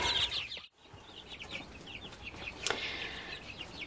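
Baby chicks in a brooder peep and cluck in a steady busy chatter, with a brief quiet gap and a soft flutter or rustle, fairly close and without any voices.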